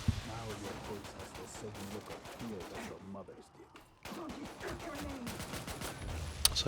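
Gunfire from the Quantum of Solace video game, with a steady run of rapid shots underneath continuous talk and a short quieter gap midway.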